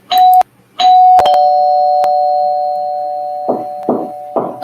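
An electronic doorbell chimes loudly: two quick rings, then a long sustained tone that slowly fades, followed by several short, sharp bursts near the end.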